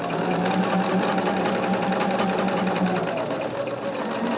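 A sewing machine hums steadily at close range as it joins cotton quilt block units for a Tree of Life pattern. The stitching runs evenly throughout with no pauses.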